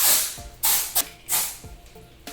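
Triple Sec texturizing hair spray is sprayed onto hair in three close, loud hissing bursts separated by brief pauses, with no talking.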